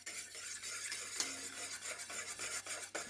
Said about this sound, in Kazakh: жақсылап араластырып аламыз